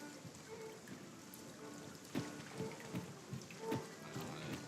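Quiet rain falls steadily in Dragon's Dogma 2, a soft continuous patter with a few louder drips. A low rumble sits underneath, and no one speaks.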